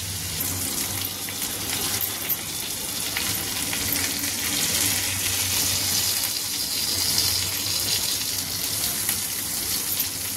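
Tandoori chicken fries in a pan with a steady, dense sizzle that holds loud and unbroken throughout, close by and with no voices.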